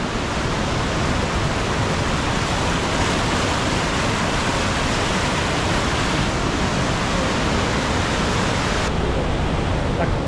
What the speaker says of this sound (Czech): hodně tady burácí voda, takže to asi slyšíte.